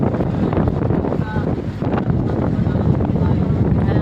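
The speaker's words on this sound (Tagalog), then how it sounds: "Mahangin." Strong wind buffets the microphone aboard a ship in loud, rumbling gusts, with faint murmurs of voices underneath.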